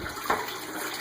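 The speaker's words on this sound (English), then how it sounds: "there it is, sucking water, spilling water on the carpet." Aquarium water being siphoned out during a water change makes a brief, soft gurgling slurp with a small splash midway, quiet and close.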